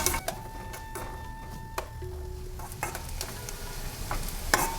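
Onions frying in oil until browned, a soft continuous sizzle with repeated metallic taps and scrapes of a spoon stirring in the pan, plus a faint steady tone in the background. No one speaks.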